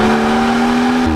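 A 2018 BMW 340i M Performance Touring with an active sports exhaust holds a loud, steady, deep revving drone, then the pitch drops at the end.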